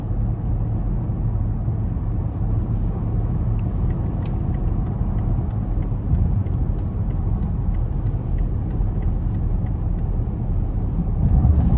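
Steady, quiet cabin drone inside a 2017 BMW Alpina B7 with a 4.4-litre twin-turbo V8 cruising at about 77 mph on the highway: low road and engine hum with soft tyre rumble, continuous and even throughout.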